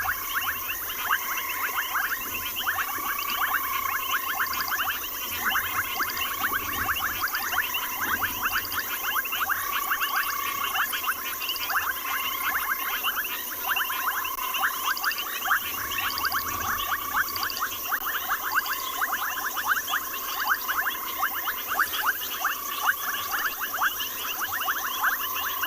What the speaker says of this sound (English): A lot of you are commenting on how loud the frogs are.